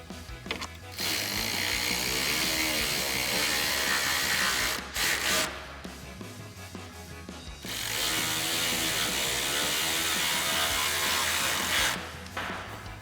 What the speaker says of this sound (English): Then we'll use our 8mm socket to tighten these right back down.